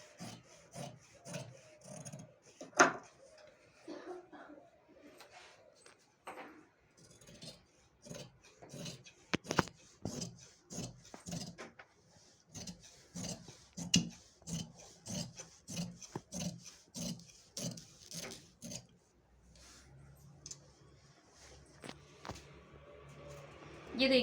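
Scissors cut fabric for a can-can skirt in a long run of quiet, regular crisp snips and rasping slides, close but soft, with faint speech early on and a low rustle near the end.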